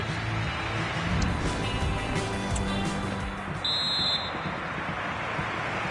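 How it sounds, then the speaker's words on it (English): Half-time referee whistle in the FC 24 football video game on PS5: one short, steady whistle blast rising over a continuous stadium crowd roar. "So the half-time whistle and the..."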